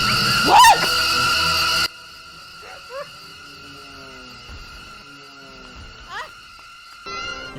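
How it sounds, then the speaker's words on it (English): A looped bird call sound effect from the movie Birdemic repeats a few times, its chirps and warbles over a steady electronic hum and tones, with no voices. "I got this one bird sound on loop"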